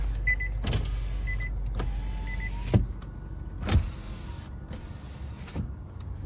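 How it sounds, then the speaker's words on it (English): Power windows on a Nissan Sentra SV run up and down in repeated whirring motor strokes, each ending in a sharp thump as the glass seats, inside a quiet parked car. "do you have power windows."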